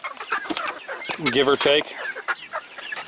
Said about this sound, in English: Alright, this is the last batch of chickens.